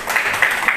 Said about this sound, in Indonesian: Tepuk tangan untuk MC,